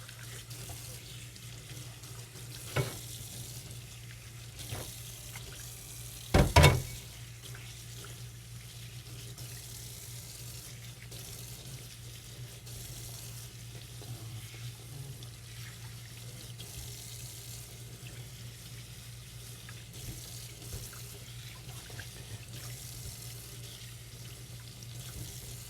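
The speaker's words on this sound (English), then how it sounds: "I'm going to rinse them on the running water, take all the veins off." Tap water runs steadily into a kitchen sink while shrimp are rinsed for shrimp scampi, a constant low wash with a couple of brief louder splashes and knocks near the start, and no talking.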